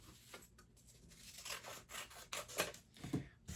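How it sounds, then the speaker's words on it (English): Scissors cut through folded paper for a children's craft, making close, quiet snips and rasping slices in an irregular rhythm with short pauses between cuts. "So we're going to do this, cut on the line, and watch what happens."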